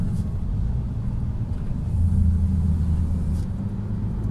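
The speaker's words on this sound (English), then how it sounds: "R500 V8, you don't even ask. You can see that thing is a V8." A Scania R500 V8 truck engine idles and rumbles steadily in South Africa, a deep, continuous low drone close by that swells slightly midway, with no other sounds over it.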